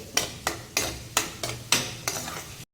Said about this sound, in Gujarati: અને હવે થોડું કેપ્સિકમ પણ ઉમેરી દઉં છું આપણે તેને સારી રીતે સાંતળી લઈશું